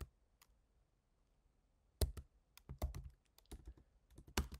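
A command typed on a computer keyboard: a short run of close, crisp key clicks starting after a quiet pause, with uneven rhythm and a few sharper taps, no talking.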